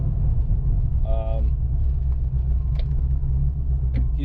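A 1990 Ford Mustang GT Fox body with a swapped transmission drives along, its engine a steady low rumble throughout with a brief higher whine partway through and faint clicks.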